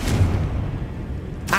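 Confringo spell explosion in the video game Hogwarts Legacy, a single low booming blast that rumbles and fades within about a second, followed by a brief bright burst at the end.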